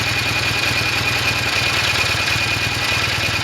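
Norton Commando 750 motorcycle engine idling steadily after the throttle is released, a close, loud, continuous low throb with an even pulse and no talk.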